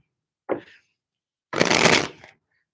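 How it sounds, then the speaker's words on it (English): Tarot cards shuffled in two bursts: a short riffle followed by a longer, fuller shuffle about a second later, close and clear with no talking. "Just tapping on my cards. We got a few shuffles in"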